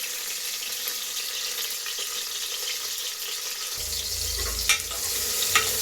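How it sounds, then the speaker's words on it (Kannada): Tomato pieces fry in hot oil for sambar, a dense continuous sizzle heard up close, with a low rumble joining midway and a couple of small clinks near the end. "ನೋಡಿ, ಚೆನ್ನಾಗಿ ಫ್ರೈ ಆಗ್ತಿದೆ."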